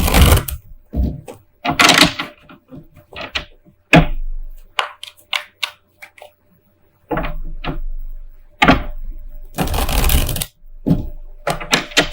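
Tarot cards being shuffled up close in irregular bursts of crisp riffling and slapping, with short pauses between handfuls and no talking.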